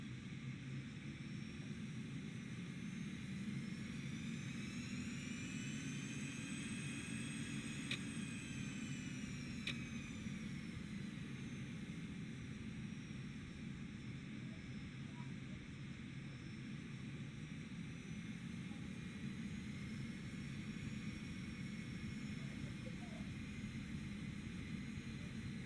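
Airbus A320neo jet engines spooling up in the X-Plane flight simulator, a steady faint roar with rising, sweeping whine tones that climb and fade over a long continuous stretch, no voices.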